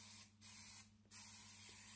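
Zinsser BIN spray undercoat with stain blocker hisses from an aerosol can onto a coffee table in short bursts, three close bright sprays separated by brief pauses, with no talking.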